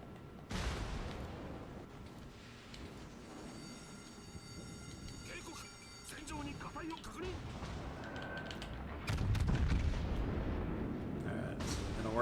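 Naval guns in World of Warships Legends firing HE shells, heavy booms and rumbling salvos mixed with a mechanical clatter under ongoing game noise, growing louder in the last few seconds.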